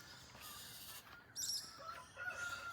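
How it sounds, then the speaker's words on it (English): A rooster crows once, faint and a little distant, over a quiet outdoor background with some soft clucking. "And the rooster's up."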